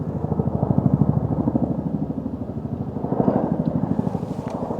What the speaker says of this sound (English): it sounds like a military helicopter